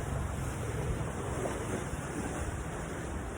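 Sea waves wash against the shore beside a roadside waiting shed in Masbate, a constant loud roar mixed with heavy wind buffeting the microphone.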